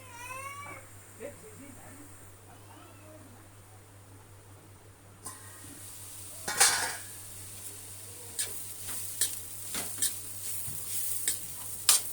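Carrot fry sizzles and is stirred in a pan, a quiet start that grows into a steady crackle with sharp clinking stirs. A cat meows near the start, and a person talks at times.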